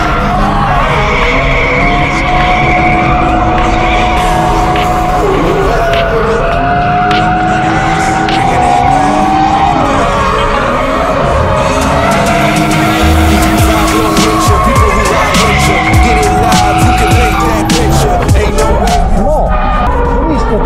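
A BMW E36 drift car skids around a track, its engine roaring loud and close with long tire squeals rising and falling as it slides through corners, sustained for about twenty seconds.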